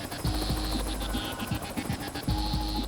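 A police helicopter hovers overhead with a steady, throbbing rotor drone and a low engine hum at moderate loudness, unbroken across the short stretch and with no voices.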